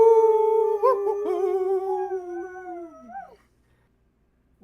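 A dog gives one long, close, wavering howl that holds steady, then slides down and fades into near silence, with a faint sound at the very end.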